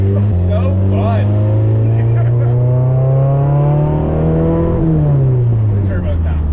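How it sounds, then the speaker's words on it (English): A turbocharged K-swapped Subaru accelerates hard, its engine note climbing steadily through a gear before a shift drops it and it pulls again, loud and close from inside the car, with speech over it. "The turbo sounds so good."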